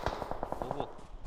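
Rapid burst of automatic gunfire in a mobile battle-royale shooter, about eight evenly spaced sharp shots in quick succession, loud and close, alone without talk.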